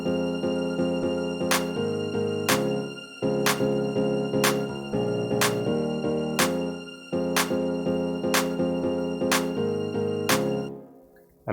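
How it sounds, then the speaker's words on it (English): An electronic pop song break with kick drum, shaker and clap over sustained piano-like chords, the beat pausing briefly twice before returning and then cutting out at the end, with no talking. "So right here is where we add the shaker or the kick drum."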